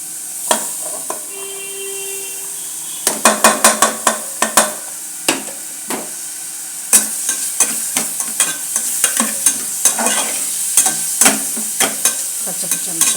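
Chicken with turmeric, coriander and fresh green masala frying in oil for a beans chicken curry, a continuous sizzle broken by a long run of sharp rhythmic spoon knocks and scrapes against the pan, close and loud, no talking.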